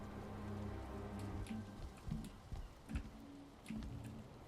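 Rain falls steadily in the video game Valheim, a soft, continuous patter under low, sustained tones, with a few louder thumps along the way.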